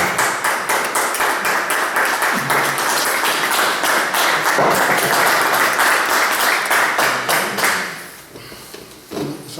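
Audience applause at a Spanish book presentation, a dense burst of many hands clapping for several seconds before thinning out and fading near the end.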